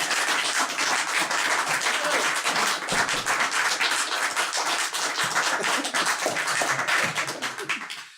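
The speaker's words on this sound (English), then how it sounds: "I think that's a good cue for Brian to have a big round of applause, please." Crowd applauding at Base Studios in Stourbridge as Diamond Head guitarist Brian Tatler is welcomed onto the stage, a dense, steady wash of clapping that holds loud throughout and tapers off at the very end.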